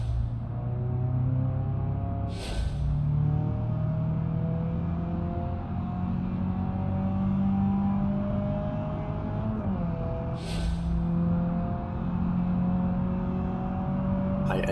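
A modded car's engine in BeamNG.drive runs loud and steady for the whole stretch, its drone rising and falling with the revs, with two brief sharper bursts along the way.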